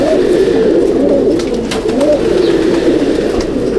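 Pigeons coo steadily in a loft of Chennai and Andhra Madrasi breeds, a continuous loud, close layer of overlapping low throaty calls with no talk.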